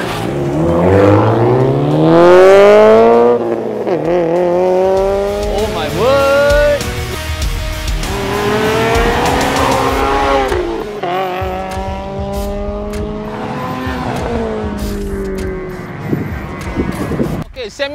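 A Subaru WRX STI version 10 R205 launches in a drag race, engine revving hard through rising, falling gear sweeps alongside other cars, loud and close, with people talking over the noise.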